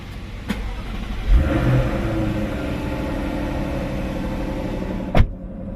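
A Jaguar F-Type engine starts with a click and a sharp catch, then revs up and settles into a steady mid-pitched idle, loud and close, with another click near the end.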